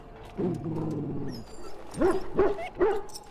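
A sick dog in the Dragon Age Origins video game whimpers in a drawn-out whine, then gives three short, distinct yips or barks, loud and close, with no speech.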